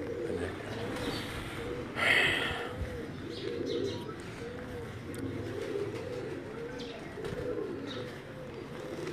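Pigeons from a long-kept collection coo in their cages, a steady run of rounded, repeating coos layered close together with a brief louder flutter or chirp near the start and faint background noise.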